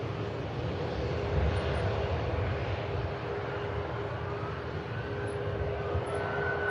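A distant airliner rumbles as it taxis at Manchester Airport, a steady faint roar holding throughout with no voices.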